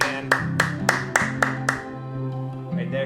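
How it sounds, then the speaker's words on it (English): Hand clapping near a timid dog during confidence training: six sharp, evenly spaced claps close by, ringing out over a steady low tonal hum, then fading into quieter background sound. "I might start clapping again."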